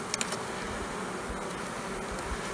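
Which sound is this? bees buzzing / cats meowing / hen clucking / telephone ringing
bees buzzing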